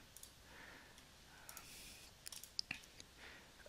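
Computer mouse clicking during a Photoshop quick selection tool session, a few soft, sharp clicks clustered toward the end, faint and close, over a quiet room hiss with no clear talking.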